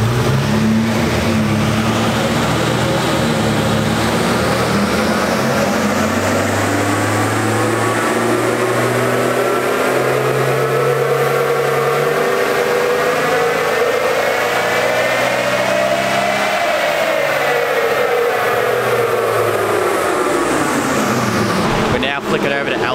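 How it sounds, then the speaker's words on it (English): A stock Nissan Patrol GQ 4WD, set up to run on petrol or LPG, drones loudly on dyno rollers, its engine note climbing steadily for about fifteen seconds before falling away and cutting off. "We're going to chuck the GQ on the rollers, see what sort of numbers we can push"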